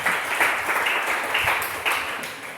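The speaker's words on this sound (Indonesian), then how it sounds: "Boleh berikan tepuk tangan bagi Tuhan." A church congregation claps for God during a sermon, a dense, steady wash of applause holding throughout at moderate loudness with no voices on top.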